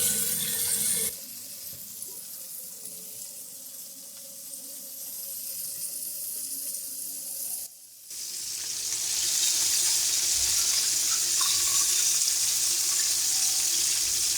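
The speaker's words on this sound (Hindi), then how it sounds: "अब हम आंच थोड़ी सी ऐसा कर देंगे ताकि चिकन अच्छे से फ्राई हो" Chicken drumsticks fry in hot oil over lowered heat, a steady bright sizzle that dips briefly midway and then returns louder and fuller, alone without talk.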